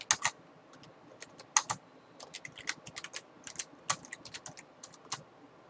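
Clicky computer keyboard typing comes in quick irregular bursts of sharp taps with brief pauses, close and moderately quiet with no voices.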